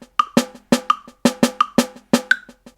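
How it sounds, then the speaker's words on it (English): A RhythmBot app plays a snare drum in straight time, sharp evenly spaced hits repeating steadily with a brighter accent tone marking each beat, close and clear with no talking. "so now it's playing a snare, it's playing straight time"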